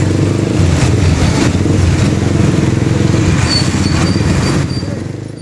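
A Super Star 200 motorcycle ridden through heavy traffic, its engine droning steadily and loudly close by as it pulls through first and second gear, fading slightly at the end.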